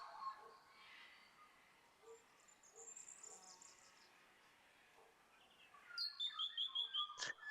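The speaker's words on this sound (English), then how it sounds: "Two avatars sitting on a riverbank, enjoying the quiet afternoon with bird noises." Birds chirp faintly beside a riverbank in a virtual-reality world, with soft scattered calls that give way to a brisk, evenly spaced run of bright chirps near the end.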